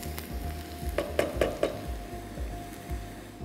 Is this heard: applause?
no